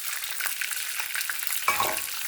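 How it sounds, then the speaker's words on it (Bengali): Green peas fry in hot oil over cumin, dried red chilli and bay leaf, giving a steady loud sizzle with faint stirring scrapes and a brief louder crackle near the end. "ওই জন্য তেলের ওপরে দিয়ে দিলাম। একটু ভেজে নিয়েছি।"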